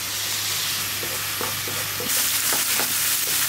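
Garlic and ginger paste, turmeric, salt, cumin, coriander and peeled tomato fry in hot oil, a steady loud sizzle with repeated scraping stirs of a spatula in the pan, no talk.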